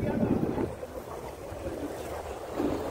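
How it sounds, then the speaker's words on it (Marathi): A ferry boat turns at Mora Jetty ferry terminal in Uran, Navi Mumbai, giving a steady low engine and water rumble with wind noise on the microphone. A voice talks faintly underneath. "हे बघा आता या बोटीने पूर्ण असं टर्न घेतलेला आहे"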